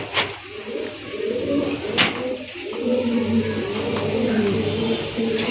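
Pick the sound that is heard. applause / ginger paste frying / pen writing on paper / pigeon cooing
pigeon cooing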